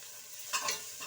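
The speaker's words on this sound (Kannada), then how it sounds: "ಎರಡು ಒಂದ್ಸಲ ಈ ಥರ ಮಿಕ್ಸ್ ಮಾಡಿ ಫ್ರೇ ಆಗಲಿ" Onion and ginger-garlic paste fry in hot ghee, a soft steady sizzle with a brief scraping stir in the middle, close and fairly quiet.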